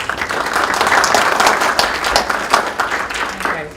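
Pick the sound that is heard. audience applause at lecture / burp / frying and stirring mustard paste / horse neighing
audience applause at lecture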